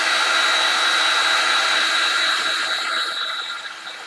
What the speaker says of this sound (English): you can use a heat gun when it's wet